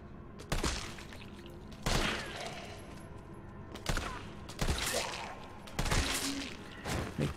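Gunfire in the video game Resident Evil 3 comes as several sharp shots spaced a second or so apart over a busy, dense game soundscape.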